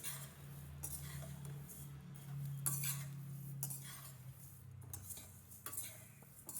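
A utensil stirring coriander seeds roasting in a pan over a medium flame, with soft, quiet scraping and light rattling repeated continuously and no talk.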